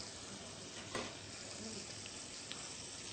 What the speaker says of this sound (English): on a high heat. What I want to do is boil away the alcohol